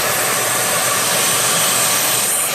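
Vacuum is drawn on a GY6 scooter engine near the intake manifold seals, making a loud, close, steady whooshing roar that runs unbroken the whole time.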